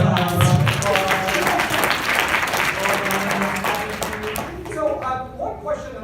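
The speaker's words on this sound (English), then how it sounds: "And round of applause." Applause from a conference audience at a marketing summit fills the whole stretch, a dense steady wash of many hands clapping with some voices mixed in.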